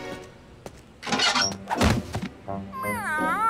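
A cartoon cat lets out a rising, wavering meow at the end, following a thump and a brief spoken exchange between characters in an animated scene.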